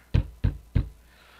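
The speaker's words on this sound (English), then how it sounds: "Then he hears a knock on his door." Three firm knocks on a door, evenly spaced and close, each a dull thud, then quiet.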